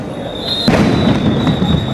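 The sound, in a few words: sound grenade explosion at protest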